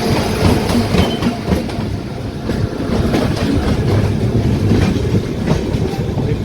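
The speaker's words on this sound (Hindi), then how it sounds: "पश्चिम एक्सप्रेस बांद्रा टर्मिनस से अमृतसर।" The Paschim Express, bound from Bandra Terminus to Amritsar, rolls in with loud, continuous rumbling and steady clickety-clack of wheels over rail joints, heard close by with no voices.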